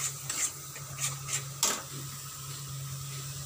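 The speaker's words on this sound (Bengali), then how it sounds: "বেশি বেশি করে একটু নাড়াতে হবে।" A spoon stirs melon seed and poppy seed paste in a cooking pan: quiet scraping and rubbing strokes with a few sharper scrapes against the metal, over a faint steady hum, with no voices.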